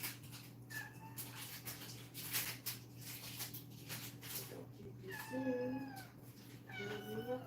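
A cat meows several times, rising and falling wails close by, over a low steady hum with soft background noise between the cries.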